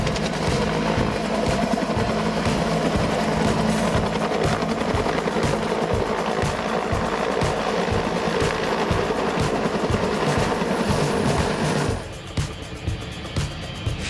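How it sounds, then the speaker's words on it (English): A Red Bull Cobra helicopter struggling to lift off gives a loud, close, unbroken roar of turbine whine and rapid rotor thumping, which drops away sharply near the end. "This Red Bull Cobra helicopter stuck when trying to lift off."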